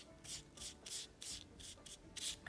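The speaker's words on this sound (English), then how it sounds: "Just kind of brush over it. Gently going over the rivets as well." A paintbrush lightly sweeps paint over fake rivets on a gesso-primed surface, making a series of about seven soft, close, rhythmic swishing strokes that are quiet and even.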